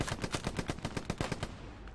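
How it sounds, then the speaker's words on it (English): Rapid automatic gunfire in the WWII shooter Hell Let Loose, a steady burst of about a dozen evenly spaced shots lasting over a second, then fading out; no voices. "suppressing fire"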